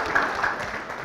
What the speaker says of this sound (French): Merci de vous applaudir encore une fois de plus public